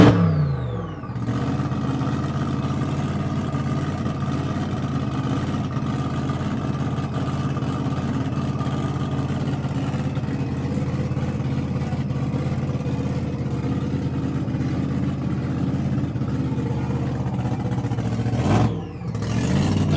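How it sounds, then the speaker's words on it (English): Car engine at Speedweek 2025 holding a steady mid-range drone, rising in pitch only slightly, loud and close for most of the stretch before a brief dip and a sharp burst near the end. "Car is rolling."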